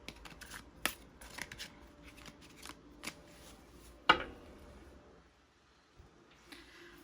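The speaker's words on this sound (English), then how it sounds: "I even changed how I shuffle." Tarot cards being shuffled by hand in a quiet room, a soft steady riffle of crisp card slaps with a sharper snap near the middle, then a brief lull before a few more light shuffles.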